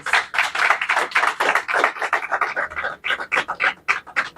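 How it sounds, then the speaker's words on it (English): Audience at a business pitch competition launch event gives a round of applause, loud pulsing clapping that surges and dips in irregular bursts. "So I think we deserve a round of applause"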